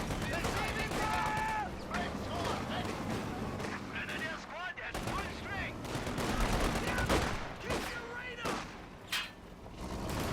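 Small arms gunfire in a strategy video game, dense crackling bursts and rattling volleys over a busy battlefield, with a voice talking throughout.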